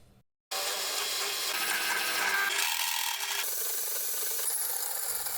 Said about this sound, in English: We mark out the locations of all the holes and then proceed to drill them out.